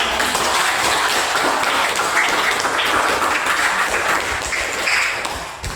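Pupils clapping together in a school classroom: a steady, dense rattle of many hands, loud and close, carrying on for several seconds before tapering off near the end.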